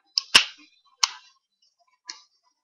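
An HFC HG-199 M9 gas blowback airsoft pistol fires four sharp, snappy cracks at uneven intervals, each a short metallic pop with a brief slide clack, close and alone in a quiet room.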